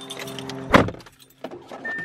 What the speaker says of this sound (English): All right, then let's get in the car.